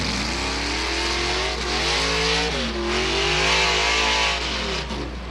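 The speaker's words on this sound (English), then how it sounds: "454 cubic inch of Chev engine run this vehicle" A tractor-pull truck powered by a 454 cubic inch Chevy engine revs hard and loud up close, its pitch climbing and dipping in repeated surges over a constant roar.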